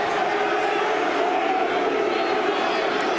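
Football stadium crowd at Portsmouth versus Manchester United, a steady, dense roar of thousands of voices willing the ball in during a corner, continuous and undiminished throughout.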